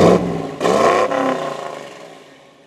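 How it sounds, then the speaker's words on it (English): A car engine revs twice with a throaty roar through Flowmaster Super 44 mufflers with short pipes, then winds down to a fading rumble, close by. "for those people who like making videos of vehicles running, exhaust sound, I got mine running"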